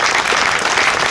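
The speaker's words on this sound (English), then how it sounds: "Let's give a round of applause to the Winter family." Outdoor crowd applause at a park ribbon cutting for the Winters family, a loud, dense burst of clapping filling a short moment with no voices.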